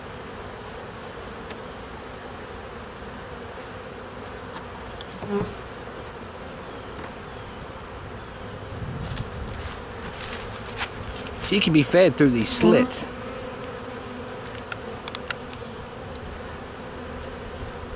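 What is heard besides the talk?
honeybee worker bees buzzing around caged queen during hive relocation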